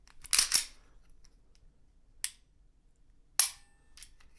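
Dry-fire trigger clicks from a Ruger LCP II Lite Rack .22LR pistol: a quick double metallic snap near the start, then two more sharp isolated clicks spaced apart, close and crisp in an otherwise quiet room.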